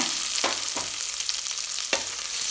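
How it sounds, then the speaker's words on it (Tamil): Onion and dried red chillies sizzle and crackle steadily in hot oil, with a few scraping stirs of a utensil against the pan. "இப்போ வெங்காயம் வரமிளகா நல்லா வதங்கிடுச்சுங்க"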